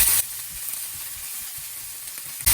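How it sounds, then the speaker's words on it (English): Onion and garlic drop into hot oil in a pan for a Chinese street food chilli pancake, giving a soft, continuous close sizzle framed by brief louder bursts at the start and end. "When the oil is hot, we add in our onion and garlic."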